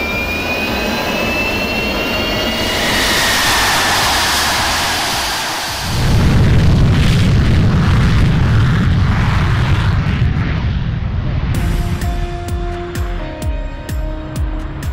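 A LongEZ aircraft engine starting up and running at AirVenture, a loud steady whine and roar that builds into a heavy low rumble midway, with sharp clicks and tones near the end.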